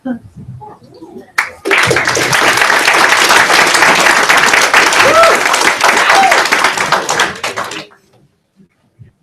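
Audience applause for a hackathon team at the final presentations, a dense, loud wash of clapping that swells in after a brief pause, holds steady for about six seconds, then tapers off with a few scattered claps. Faint voices rise above it near the end.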